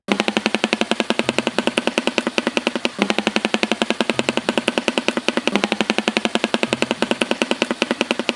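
A shoebill's call: rapid, loud mechanical clattering in long rhythmic bursts, like machine-gun fire, repeating steadily with brief pauses, close and alone.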